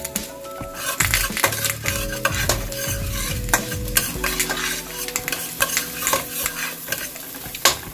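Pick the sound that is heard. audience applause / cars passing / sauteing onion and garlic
sauteing onion and garlic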